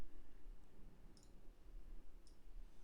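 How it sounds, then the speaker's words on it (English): Light clicking of computer keyboard keys, a few scattered taps over a low background hum, quiet and close, with no voices. "I'm typing to my wife."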